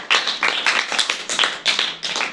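Audience applause for students performing in a school eco-club role-play on the environment in Bihar, a steady patter of many hands clapping at close range in continuous bursts, with no talking.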